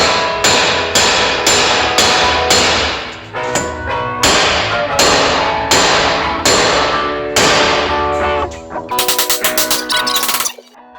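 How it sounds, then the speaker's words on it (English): Repeated heavy hammer blows on a Subaru BRZ rear wheel hub, about a dozen loud, close metallic smacks at a steady pace, then a quick rattling burst of lighter strikes near the end. "smack the hub around here. It'll eventually come loose."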